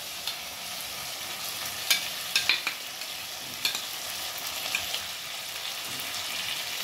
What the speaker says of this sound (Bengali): কাঁচা লঙ্কাটা দেওয়ার পর এটাকে আমরা আবার মিক্স করে নেব জিনিসটা